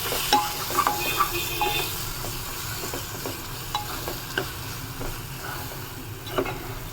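Chicken curry masala being stirred in a pan, a steady sizzle under scattered scrapes and clinks of the spoon against the metal, close and moderately loud with no talking.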